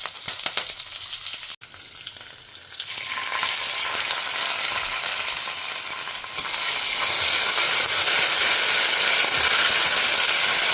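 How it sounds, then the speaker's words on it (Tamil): Whole spices, green chillies, dried red chillies and a bay leaf sizzle in hot oil in a pot, beginning quieter and swelling into a loud, dense hiss with a sharp clink near the start. "ஸோ கலர் சேஞ்ச் ஆகி பொரிய ஆரம்பிச்சிடுத்து"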